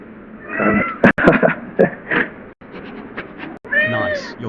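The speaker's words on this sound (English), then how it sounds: "I hear my cat. He sounds like just a bird." A pet cat gives a run of high, warbling meows and chirps that sound almost birdlike, loud and close, with short gaps between the calls.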